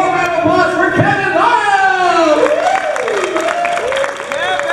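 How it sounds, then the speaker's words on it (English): At a comic convention panel, the audience claps and cheers loudly. Shouts and whoops rise over dense clapping that carries on throughout. "Everybody, give a warm round of applause for Kevin"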